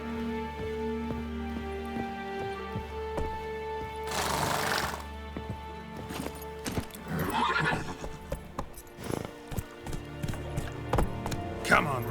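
Roach the horse in The Witcher 3 whinnies loudly in a burst early on, with a second neigh later, while hooves clip-clop steadily throughout against game music and ambience.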